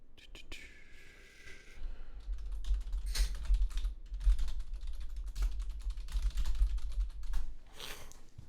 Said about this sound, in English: I'm going to type something to you quickly.